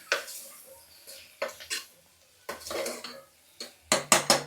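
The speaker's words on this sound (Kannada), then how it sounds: "ಇದು 3 ಹಾಕ್ಕೊಂಡು ಒಂದು ಸರ್ತಿ ಮಿಕ್ಸ್ ಮಾಡ್ಕೊಳ್ಳಿ" Metal spoon stirring chili powder and salt into radish sambar in a pot, with scattered clinks and scrapes against the rim and a quick run of sharp taps at the end, no talking.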